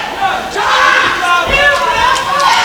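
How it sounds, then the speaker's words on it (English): A raucous crowd at a wrestling show roars and chants loudly and continuously during a preliminary match. Voices rise and fall in waves and fill the whole stretch. "I don't think I've heard the Orville crowd this raucous in a long time"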